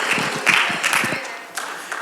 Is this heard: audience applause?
yes